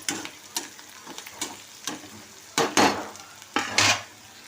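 Bitter gourd pieces fry with turmeric in a pan, a low sizzle running beneath repeated scraping and clacking strokes of a spatula against the metal, growing heavier toward the end with no voices.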